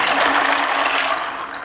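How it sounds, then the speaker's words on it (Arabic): Water pours steadily into a pot of soaked fava beans, a full, close rushing splash that eases off slightly toward the end. "أول شي حنحط المي عليهم"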